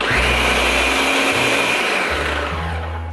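A Ninja blender whirs loudly and steadily as it blends a McDonald's coffee frappe, a harsh grinding motor roar with shifting low tones, close and continuous with no talk.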